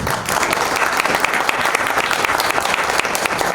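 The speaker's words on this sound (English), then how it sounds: "Can you give a big round of applause for them, guys?" Dense, steady applause from a large audience fills a hall at an HR leaders' awards convention, loud and continuous with no voices over it.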